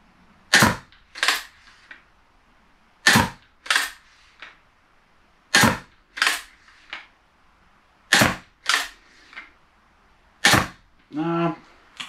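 Steambow Stinger crossbow fitted with a 35 lb limb, shot repeatedly at small targets: sharp paired snaps of release and impact recur in a steady rhythm about every two to three seconds, loud and close, with a brief rattling clatter near the end.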